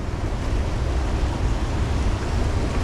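Steady, loud rushing river water roars without a break, a broad churning wash of fast rapids heard close by, with no voices.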